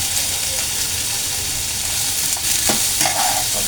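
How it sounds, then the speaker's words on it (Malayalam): Onion, ginger and garlic sizzle steadily in hot oil in a pan, a loud continuous frying hiss with a few stirring clatters near the end. "ഉള്ളി ഇഞ്ചിയും വെളുത്തുള്ളിയും കൂടെ അരിഞ്ഞിട്ട് അത് രണ്ടും കൂടെ അങ്ങോട്ടിട്ട് ഇതൊന്ന് മൂപ്പിക്കുക"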